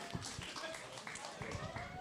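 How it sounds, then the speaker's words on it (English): Audience applause for a speaker after a five-minute pitch at a crypto conference in Jakarta, a steady patter of many hands clapping at moderate distance with some talk mixed in. "Give applause for Sean."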